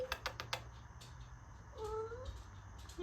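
A pet cat meows once, clearly and close by, near the middle of a quiet room, with a few sharp clicks and taps early on.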